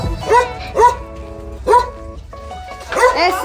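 A dog barks several times close by in a backyard, loud separate woofs spaced unevenly, with a person speaking softly between them.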